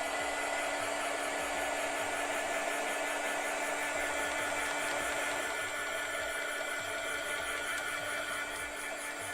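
A hair dryer runs steadily and close by, drying wet gouache paint, a continuous even whoosh with a constant hum that holds without a break.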